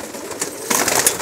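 Pet pigeons on a rooftop loft, fancy banke breed, make a few soft cooing calls close by, with a brief flutter of movement and no talk.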